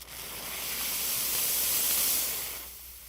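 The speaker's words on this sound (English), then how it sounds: "The dress fit nozzle delivers a concentrated burst of steam" A ProSeries 360 steam cleaner's detail nozzle lets out one sustained, concentrated hiss of steam, swelling and then tapering off at the end, close and steady with no talking.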